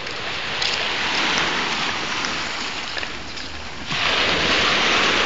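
Sea waves wash over stones on the shore at Puerto Galera, a continuous loud rushing surge that swells again near the end, with wind noise and no talking.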